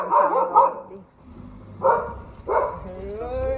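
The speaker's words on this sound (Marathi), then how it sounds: "ए इकडे काय रे तुझं नुसतं भुकतो" A dog barks in short, loud bursts, three or four separate barks with pauses between them, and a whimpering whine follows at the end.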